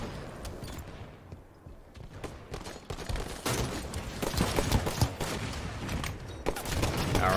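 Halo multiplayer gunfire rattles in rapid bursts from a match near Red Bridge, with sharp overlapping shots that start sparse and grow denser and louder toward the end.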